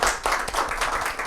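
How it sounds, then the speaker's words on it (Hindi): An audience at a Rajasthan Parishad interview event claps for the guest, a brief burst of many hands heard close and fairly loud for just over a second. "एक बार ज़ोरदार तालियां हो जाए हमारे आइकन के लिए"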